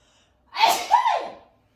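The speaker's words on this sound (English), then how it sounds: "that was a dust sneeze" A single close, loud sneeze set off by dust during a vinyasa yoga class, a sharp intake breaking into a forceful, breathy burst that trails off over about a second in a quiet room.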